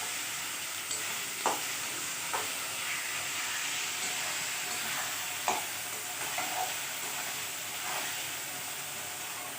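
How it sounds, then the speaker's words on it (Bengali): Cumin powder and ginger paste being sautéed in a pan, a steady sizzling fry with a few sharp scraping stirs of a spatula, close and alone. "অল্প জিরে গুঁড়ো দিব, আদা বাটা দিলাম। ভালো করে এগুলো কষে নিলাম।"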